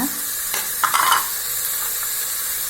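Carrots tumble into a hot pan and start sizzling, a brief burst of crackle and stirring rising over a constant hiss that carries on steadily.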